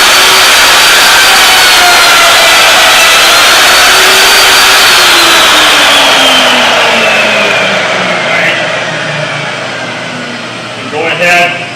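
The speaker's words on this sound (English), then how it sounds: "I'm going to place my hand on top of the router here to ensure that the torque of the motor will not turn into the base and motor" A handheld router motor cuts a rabbet in wood, its loud whine sweeping in pitch under load before winding down and fading, followed by a few faint clicks at the end.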